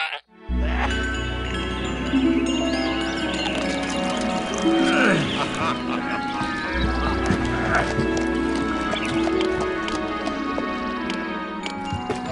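Horses whinny and hooves thud in the ancient Greek city-building game Master of Olympus: Zeus, loud and steady throughout, layered over busy game sounds and music.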